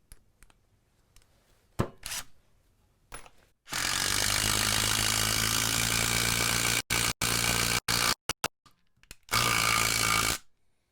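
A DeWalt 12V Xtreme impact driver on its high setting drives a large screw with a Torx bit. It makes loud, sustained hammering runs, first in one long burst, then in short stop-start bursts, then a final run.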